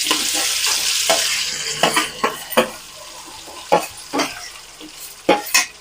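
A spoon stirs boiled vegetable curry around a frying pan with cumin seeds and curry leaves, giving repeated scraping strokes over a soft steady sizzle, close and fairly loud, with no voices.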